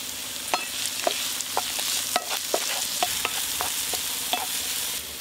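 Chopped onion, tomato and green chili fry in a pan under a steady close sizzle, punctuated by regular scraping clicks from a spatula stirring, with no voices.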